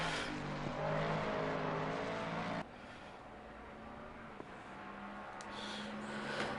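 Racing car engine in Assetto Corsa Competizione, roaring loudly at high revs through the first half, then dropping to a lower, steadier drone after a sudden shift, with a brief sharp click near the end.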